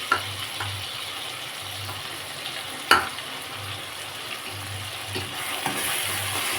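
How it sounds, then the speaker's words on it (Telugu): Soaked chana dal tipped into a sizzling pan of prawn curry, giving steady close frying hiss with a sharp clatter as it goes in and light stirring scrapes throughout. "ముందుగా నానబెట్టుకొని ఉంచుకున్న పచ్చనపప్పు వేస్తున్నాం"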